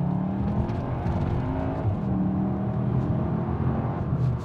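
A car accelerates hard on the road, its engine droning steadily and loudly from inside the cabin with a continuous rumble and whir, no speech over it.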